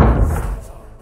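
A heavy door slams shut as a horror-story sound effect, a single loud, deep thud at the start that rumbles and fades away over the following second.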